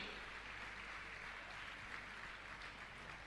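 A faint, steady wash of audience clapping at a Hindi-language religious gathering during an honouring ceremony, continuous and distant with no clear individual claps standing out.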